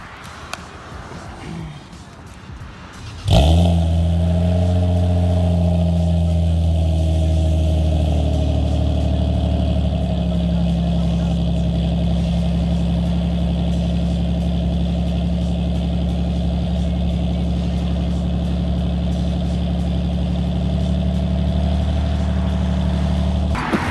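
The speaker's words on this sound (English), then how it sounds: "Haven't started the IS300 in about 2 weeks maybe. So I'll make a cold start for you guys." A Lexus IS300 cold start after sitting about two weeks: a brief starter crank at around three seconds, then the engine catches and settles into a loud, steady, close idle for the rest of the clip.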